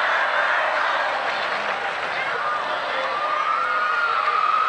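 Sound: Lincoln fans cheering at a football game

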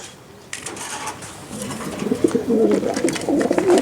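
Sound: racing pigeon cooing

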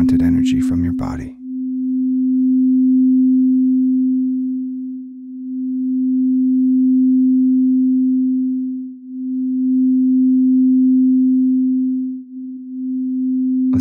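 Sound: quartz crystal singing bowl tuned to F

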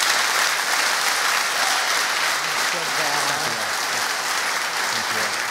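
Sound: loud applause for the core team

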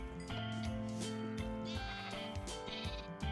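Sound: sheep bleating in Minecraft video game

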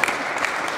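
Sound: audience applause

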